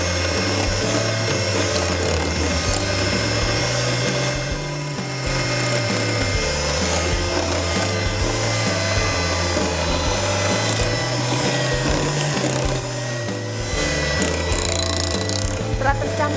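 On low speed, an electric hand mixer works flour into potato kue lumpur batter with a steady, close droning whir and a slightly wavering low hum that runs unbroken throughout.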